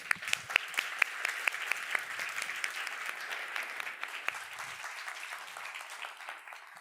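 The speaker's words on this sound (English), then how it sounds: "Let's give him a warm round of applause." An audience applauds to welcome a speaker at a conference, a steady spread of clapping at moderate distance that keeps going throughout, with sharper individual claps standing out near the start before it thins slightly toward the end.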